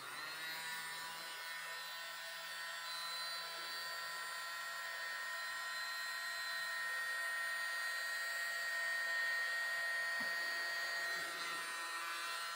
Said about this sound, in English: I'm going to use my mini blower.